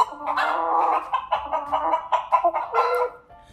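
A chicken clucks in a busy run of short, close calls that rise and fall for several seconds before tailing off.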